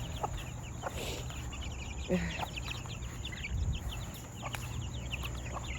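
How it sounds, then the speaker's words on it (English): Backyard chickens and young chicks clucking and peeping around a home flock, soft overlapping calls and chirps continuing steadily with a few sharper notes, with faint talking in the background. "All of these chicks were hatched here from my birds"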